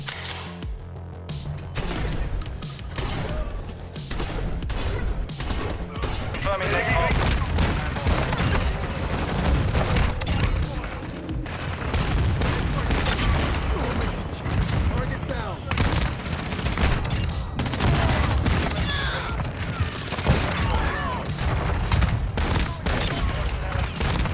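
Rapid shotgun fire from a Benelli M4 modelled after John Wick in a video game, a dense, continuous barrage of loud booming shots, with speech mixed in at times.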